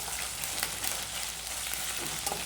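Sizzling oil in a pan while cooking uggani, a continuous bright frying hiss with occasional crackles and pops, steady and close, with no talking.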